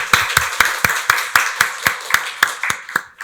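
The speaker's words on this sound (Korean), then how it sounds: "박수로 하나님께 영광 돌리겠습니다" A Korean church congregation at Sunday worship claps in unison, about a dozen sharp, evenly spaced claps with a steady beat, close and loud, slowing slightly before stopping.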